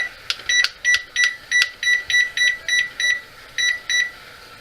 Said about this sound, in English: Let's set the timer